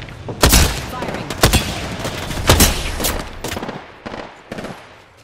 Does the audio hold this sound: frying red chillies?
no